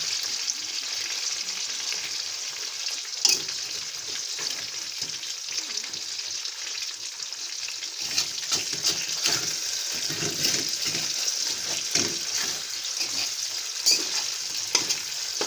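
Chicken frying in a pan over a medium-low flame, a steady close sizzle and crackle running throughout with occasional brief spatters and utensil touches, no voices.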